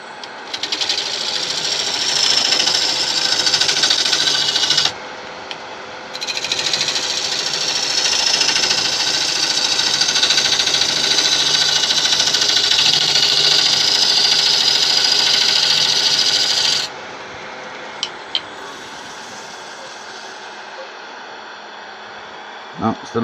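Wood lathe with a carbide tool taking very light finishing cuts across the resin of a large resin river bowl: a loud, steady, high-pitched whirring drone that breaks briefly near five seconds, then cuts off with a few faint knocks afterward.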